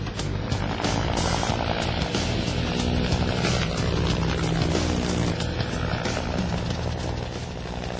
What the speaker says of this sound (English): It's just amazing how fast a big helicopter like this gets up and goes.